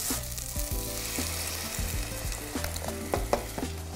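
Plum peeled tomatoes dropped into a hot pan for a lamb kofta curry sauce, loud close sizzling and crackling with repeated stirring scrapes over a low stove hum.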